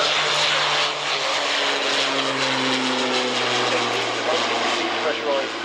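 A BAe Jetstream 41 airliner flying past at an airshow, its turboprop engines droning loudly with a steady tone that slowly drops in pitch, while a voice speaks over it.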